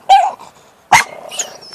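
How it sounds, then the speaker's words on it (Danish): Pet dog barking indoors, two sharp close barks separated by a pause, followed by a softer whining yip. "Det er min irriterende hund."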